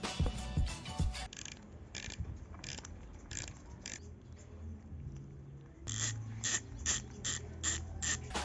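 Rapid ratcheting clicks from a spinning bicycle hub driver, coming in bursts that buzz and fade, then a second hub's louder and sharper ratchet buzz, comparing a Colony Wasp hub and a cheap Chinese knockoff.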